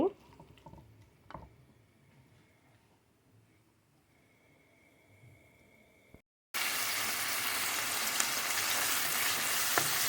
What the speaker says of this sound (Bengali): এখন আমি চিংড়ি মাছটা পেঁয়াজের সাথে মিক্স করে একটু চিংড়ি মাছটা ভেজে নিচ্ছি